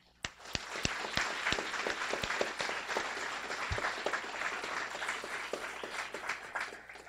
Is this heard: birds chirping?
no